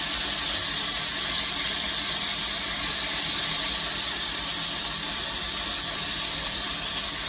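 A piece of bacon fat frying in a pan hisses with a steady, loud, hissing crackle that holds without a break.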